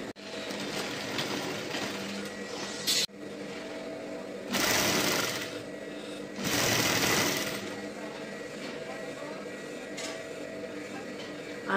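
A sewing machine stitches blouse fabric, running in a steady close mechanical whir with a couple of louder, faster bursts and brief pauses. Talk can be heard alongside it.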